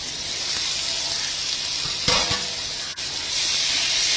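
Finely chopped bitter gourd sautés in a pan for a coconut gravy, giving a steady close sizzle and hiss. Midway there is a sharper clatter of stirring, then a brief dip before the frying settles back in. No one speaks.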